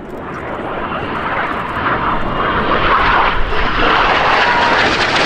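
At the Yeovilton Air Day, a display aircraft in a hard turn produces a loud engine roar that swells and builds steadily over a few seconds, with no talking.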